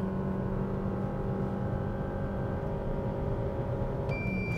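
Steady engine drone from a 2018 Suzuki Swift with a CVT held at high revs around 5000–6000 rpm, a sustained even hum heard from inside the car, with a brief higher tone near the end.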